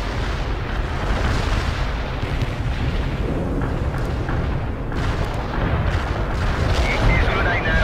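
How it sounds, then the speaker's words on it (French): Artillery shells fire in the video game World in Conflict as dense, continuous rumbling booms and blasts that fill the scene with heavy low-end roar and no clear pauses. "coordonnées verrouillées, les obus partent"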